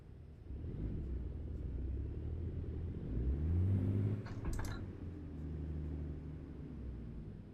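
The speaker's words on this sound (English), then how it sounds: "It feels like I'm driving a real truck. The noise is identical to how they go and when they shift and all that." A heavy truck engine in the American Truck Simulator video game rumbles steadily, swelling as it revs up with a rising tone midway, then settling back into a low continuous drone.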